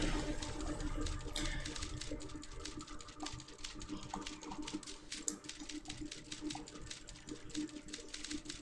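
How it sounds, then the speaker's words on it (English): Rapid irregular clicking in close, steady bursts, resembling a typewriter or keyboard being typed on, continuing throughout with no speech over it. "That sounds like a typewriter."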